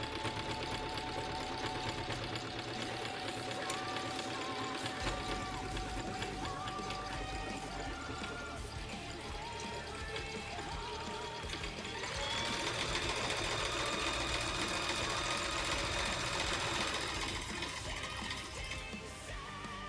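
A sewing machine stitches a zipper, humming in a steady, fast close-up whir for the whole stretch, speeding up slightly partway through, with no talking.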